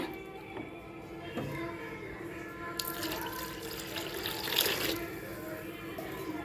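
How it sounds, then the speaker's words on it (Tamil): Water runs and splashes into a cooking pot for a few seconds while making brinjal sambar, with faint background sounds and light clatter. "அடுத்து தேவையான அளவு தண்ணி சேர்த்துக்கலாங்க"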